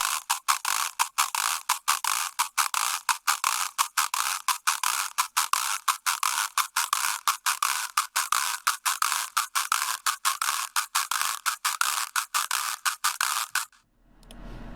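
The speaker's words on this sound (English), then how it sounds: "when it gets fast, it really sounds like a scrape" Synthesized scrape-like effect built in Serum, saturated, with a membrane-style resonance and bit crushing: a rapid, regular stream of gritty ratcheting clicks running steadily, loud and alone, before cutting off near the end.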